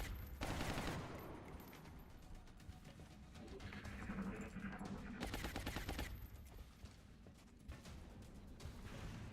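Heavy gunfire in the Long War mod of a squad tactics game, dense overlapping bursts and shots throughout, loud and continuous with sharp spikes of louder fire.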